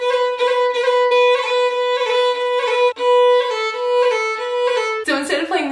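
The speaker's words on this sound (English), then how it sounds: "In Irish and Scottish fiddling, you'll encounter a whole bunch of these little ornaments that might sound something like this." A solo fiddle plays a lively Irish-style jig decorated with quick grace-note ornaments and rolls, bright and close, ending with a sudden noisy cutoff.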